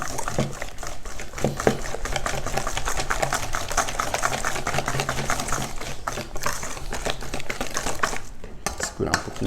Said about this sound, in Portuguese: Pode ser com o próprio batedor de arame